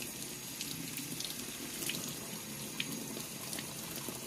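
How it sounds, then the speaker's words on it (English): Running tap water rinsing a pyrite mineral specimen, a steady faint hiss of flowing water with small splashes and drips, close and continuous with no talk. "so we're just going to give it a little rinse."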